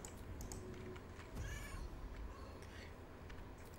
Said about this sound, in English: we could actually prepare a familiar that is a cat. Get the cat to meow.